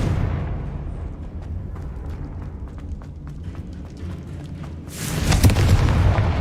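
A Confringo blasting spell explodes in the video game Hogwarts Legacy, a loud burst near the end after a low rumbling stretch with scattered crackles.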